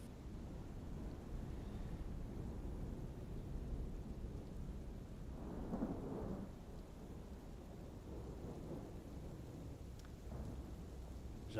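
Heavy rain pours steadily in the dark city of Tremor City, a continuous wet hiss with low rumbling thunder swelling briefly midway, fairly faint and with no voices.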